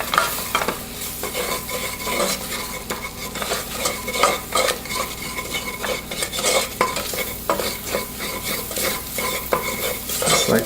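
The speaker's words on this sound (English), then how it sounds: "Adding our flour. So this is going to be our roux." Flour is stirred into melted butter in a pan to make a roux for bacon macaroni and cheese, with a steady gentle sizzle and repeated scraping spoon strokes against the pot, close and continuous.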